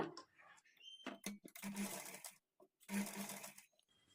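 A sewing machine stitches a blouse sleeve joint at a half-inch margin, running in two short bursts of rapid mechanical whirring, close and moderately loud, with someone talking between and over the stitching.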